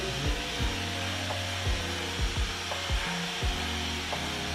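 Electric hair clippers, wet-or-dry type with special blades, buzzing steadily up close while cutting short hair to about 3.2 mm, with repeated brief strokes and pitch dips as the blades pass through the hair.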